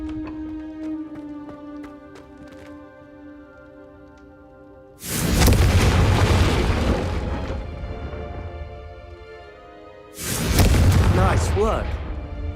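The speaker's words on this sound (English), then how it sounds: "I think you'll find that a Confringo cast travels a bit farther than that of a spell like Incendio" In the Hogwarts Legacy video game, a Confringo fire spell is cast twice, each time a loud, sudden fiery blast that rumbles on for several seconds. Soft musical tones play between the blasts and voices speak.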